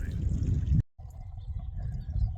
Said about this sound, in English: Since the water's coming right out of a pipe